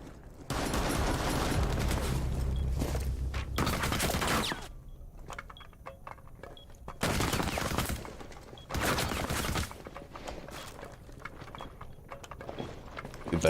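Rapid gunfire in a video game, with several loud sustained bursts of automatic shooting separated by quieter gaps full of scattered clicks and game noise.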